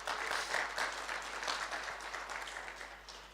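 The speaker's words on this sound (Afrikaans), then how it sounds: "Kom ons gee hulle hande klap." A church congregation applauding a birthday visitor near the pulpit, a faint, distant wash of scattered clapping that holds steady and tapers slightly, with no voices.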